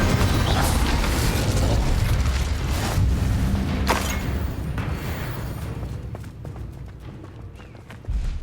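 Incendio fire spell in Hogwarts Legacy, a loud roaring, crackling burst of magical fire with sharp pops, the whoosh slowly dying away over several seconds.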